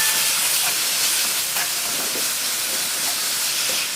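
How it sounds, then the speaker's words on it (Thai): Enoki mushrooms stir-fry in a Teflon pan with a loud, even, hissing sizzle that holds steady throughout, with faint intermittent scraping under it. "ผัดให้เห็ดเข็มทองสลดสักแป๊บหนึ่งนะคะ"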